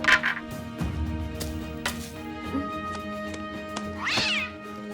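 Cartoon cat meowing in a fantasy animated series, several clear mews and a rising caterwaul near the end over background music, with no talking.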